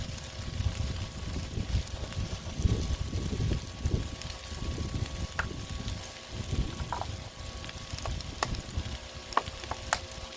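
Butter frying in a pan, a soft steady sizzle with faint scraping and occasional light clicks, fairly quiet and continuous.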